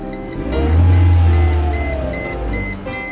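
A Mercedes SLK230 engine idles with a low steady rumble, then is stopped via a push-start kit, while an electronic beep pulses repeatedly at regular intervals throughout, close and fairly loud.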